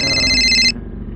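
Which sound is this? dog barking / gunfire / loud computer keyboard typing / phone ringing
phone ringing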